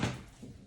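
A chair gives one short creak or knock in an indoor room, a single brief sound that fades quickly into quiet.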